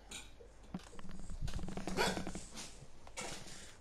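A dog in the video game Far Cry 4 gives a few short, close barks and yelps over steady game background noise, clustered in the middle of the stretch.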